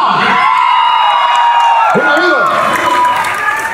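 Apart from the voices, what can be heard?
audience applause and cheering welcoming Oscar Roa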